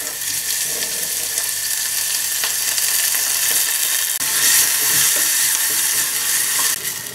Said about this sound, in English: And fry my onions for a bit.